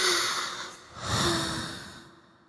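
Ladybug yawning deeply as a gentle children's story sound effect, a long breathy sigh-like exhale that swells, fades, then rises again before trailing off, close and alone.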